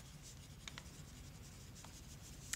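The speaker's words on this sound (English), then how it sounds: "I'm going to put my name on my paper" Pencil or pen writing a name on paper, a soft continuous scratchy rubbing with a few sharper ticks, close and quiet.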